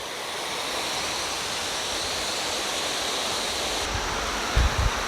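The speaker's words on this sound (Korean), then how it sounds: "이게 물이 흐르는 게 보일 정도면 유속이 좀 빠른 거예요" Fast-flowing mountain stream in the Yongso Falls valley in Gapyeong, a steady, loud rush of water running unbroken throughout, with a few low thumps near the end.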